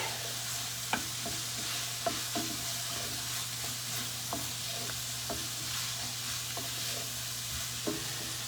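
Vegetables for a shepherd's pie cook in rendered bacon fat, giving a steady close sizzle with a low hum beneath it and sharp clicks of stirring every second or so. No one speaks.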